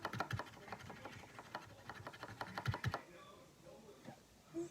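Rapid clicking keystrokes on a Perkins-style braille keyboard of a braille note-taker, a busy irregular patter of close taps for about three seconds, then quieter faint clicks and rustles.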